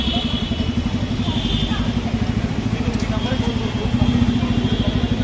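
Bajaj Pulsar N250 motorcycle on a test ride, its engine producing a steady, rapid low throb with slight clatter, fairly loud and close, rising a little toward the end.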